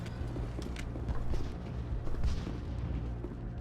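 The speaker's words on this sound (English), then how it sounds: "I can hear explosions." Rumbling explosions in the Mass Effect video game, a steady low boom and roar of distant blasts rolling on throughout with some fainter clatter on top, no talk.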